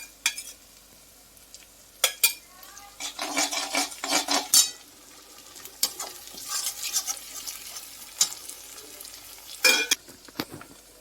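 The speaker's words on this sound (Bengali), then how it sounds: "মশলা আদা রসুন ভালো, কাঁচা লঙ্কা ভালো ভাজা ভাজা হয়ে গেছে।" Ginger, garlic and green chilli paste frying in a pan for a spinach chicken curry, stirred with a spoon in bursts of scraping and clattering against the metal over a soft, continuous sizzle, close and fairly loud.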